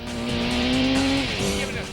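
Racing cars from a video game roar along with a rising engine whine and tire squeal, loud and continuous throughout, with speech mixed in underneath.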